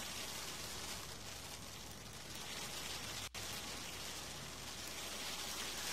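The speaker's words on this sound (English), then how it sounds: "Ooh, that's hail. That's not a good sound." Steady dense hail patter in the airport-building video game Airport CEO, a constant wash of fine impacts with no talking, holding level from start to end.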